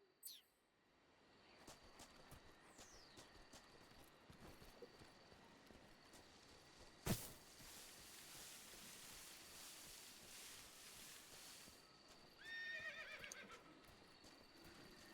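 A horse in the video game Metal Gear Solid Delta whinnies amid steady ambient jungle noise, with scattered clip-clop of hooves and a sharp impact partway through, all fairly distant and without speech.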